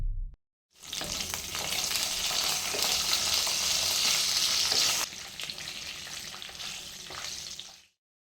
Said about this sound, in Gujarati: હવે મરચાંને 1 મિનિટ સાંતળી લઈએ